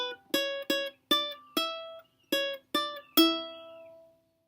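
Close, clear ukulele picking the closing bar of a riff: seven or eight bright single notes in a steady, slightly uneven rhythm, the final note left ringing out and fading, no voices.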